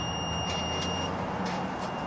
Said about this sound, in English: If you don't like listening to the beeper, you can silence the alarm.